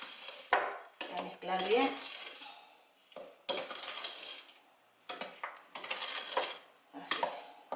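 Sugar and cheesecake ingredients being mixed in a bowl give off bursts of clinking and scraping utensil strokes, close and moderately loud, with brief pauses between stirring spells and a short spoken word.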